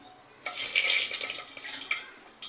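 Leaves hit hot oil in a pan while soya chunk pulao is being cooked, bursting into a loud, sudden hiss of sizzling that crackles on and gradually settles over a couple of seconds.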